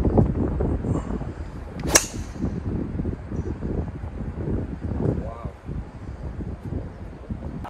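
Gusty wind on a golf course buffets the microphone with a steady low rumble throughout, with one sharp brief click near the start.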